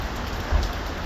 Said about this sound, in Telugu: ఫుల్ వాన పడుతుంది.